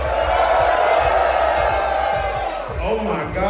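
Large concert crowd in New York City cheering and roaring loudly and continuously before a performance, a dense wash of voices with whoops, a voice speaking briefly near the end.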